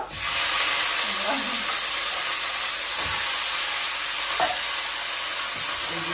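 White cumin seeds frying in hot oil with a bay leaf for a Bengali tempering, a loud, dense sizzling hiss that holds steady throughout, with a few faint knocks underneath.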